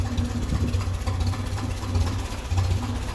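A 1957 Ferguson 35 tractor running on TVO idles at very low revs, around 500 rpm, with a steady, loud low rumble and a lumpy, slightly uneven pulse throughout.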